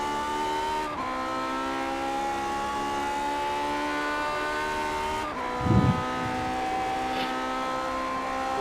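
A race car engine in a racing game on the Daytona road course, revving high and held long without early upshifts, with steady whining harmonics, abrupt gear changes and a brief low thump.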